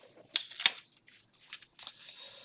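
Scissors snipping paper for a journal, a few quick, crisp cuts close by and fairly quiet, with faint crinkling between them.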